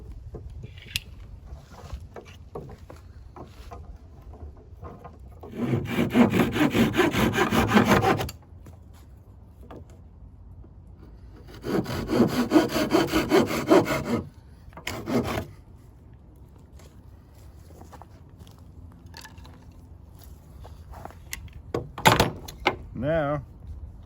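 A hand saw cuts through the end of a piece of wood in two separate bursts of steady rasping strokes, close and fairly loud, with quiet handling gaps and a few small knocks in between.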